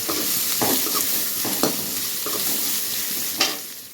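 Food sizzles steadily in a hot pan as ginger-garlic paste cooks for a goat blood and egg stir-fry, with periodic scraping and stirring strokes of a utensil against the metal, close and fairly loud.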